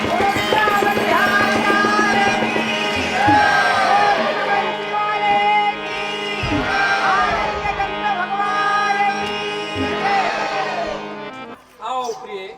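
Audience at a Rahas, a Chhattisgarh Raas Leela performance of the Krishna story, raising loud continuous crowd noise with voices shouting and whooping, steady throughout before dropping off near the end; clapping is not clearly separable.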